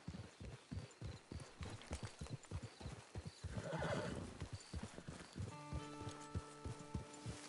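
Horse hooves clip-clopping steadily on the ground in a PS4 video game, with a loud neigh and whinny near the middle, then the hoofbeats continue over a soft tonal background near the end.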